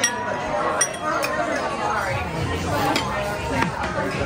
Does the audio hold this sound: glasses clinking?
yes